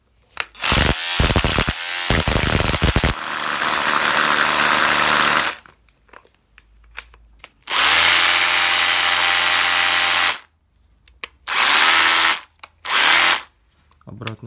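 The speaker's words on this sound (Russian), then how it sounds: "Перфоратор." A cordless rotary hammer drill whirs in several bursts, a few short clicks first, then long runs of several seconds each with brief silences between, loud and close.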